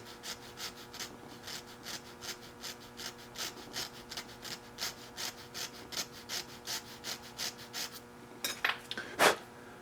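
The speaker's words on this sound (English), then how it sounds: "I just push it together, and I'm filing both sides at the same time that way." A hand file rasps back and forth across the ends of a Kerzel piston ring, steady rhythmic strokes about twice a second, close and clear, ending with a couple of louder metallic scrapes.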